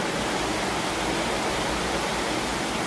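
Rushing floodwater gives a dense, unbroken roaring hiss, loud and constant throughout with no voices.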